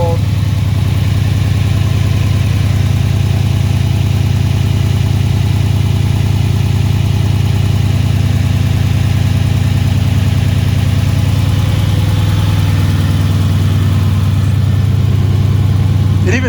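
A Mercedes C63 AMG S V8 idles with a RaceChip tuning module fitted: a steady, deep, loud rumble held close and unbroken, with faint voices underneath.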